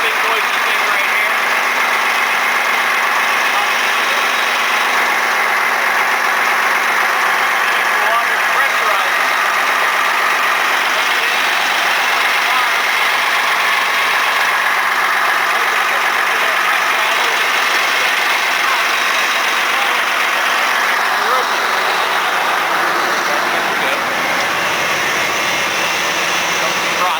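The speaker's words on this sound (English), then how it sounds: "High pressure pump. This big noisy thing right here." A loud, steady mechanical drone from a large high-pressure pump on a 3000-gallon-per-hour reverse osmosis water purification unit runs continuously, a broad humming whine with no pauses, close by.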